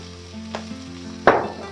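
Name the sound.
oil sizzling in the pan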